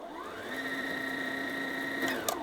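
A Viking Onyx 30 sewing machine winds thread onto a bobbin, its motor holding a steady, even whir close by for the whole stretch, with a couple of faint clicks near the end.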